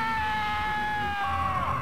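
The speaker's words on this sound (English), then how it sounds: "leave a message at the sound of the scream" A sustained, high-pitched wailing scream plays as a sound effect on an answering machine message, a steady tone that bends and falters near the end.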